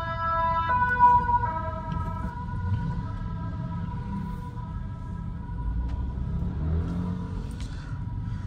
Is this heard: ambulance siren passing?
yes